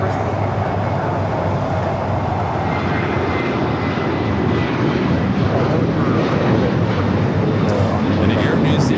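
A jet airplane taking off at Los Angeles International Airport roars as a loud, continuous broadband rumble of engine power, steady and sustained throughout, with faint radio chatter in the background.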